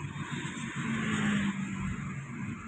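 A car cruising in third gear, a steady close engine drone with road noise and a faint rising tone, moderately loud and without talk.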